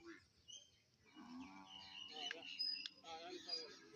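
Cattle low with drawn-out moos at a buffalo market, fairly faint and distant, mixed with crowd noise and people talking.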